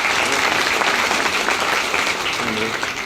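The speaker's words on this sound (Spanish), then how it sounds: "Recibamos con un fuerte aplauso" An audience claps steadily to welcome a doctor to the front of a class, dense continuous applause filling the room at an even level throughout.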